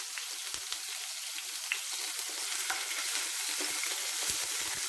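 Ginger garlic paste frying in oil over a low flame while chow chow pickle is made, giving a continuous close hiss and sizzle with faint crackles and occasional stirring, with no talking.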